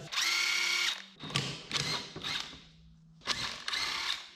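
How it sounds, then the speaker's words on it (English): Pulley puller working on a 1976 GMC engine, giving several bursts of ratcheting, drill-like mechanical whirring separated by short pauses, close and fairly loud, with no talking. "Definitely gotta have the pulley puller to get that off."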